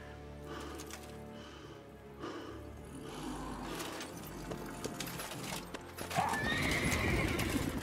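A horse wearing armor whinnies loudly near the end of a video game clip while hooves clip-clop steadily throughout over a rumbling game soundtrack.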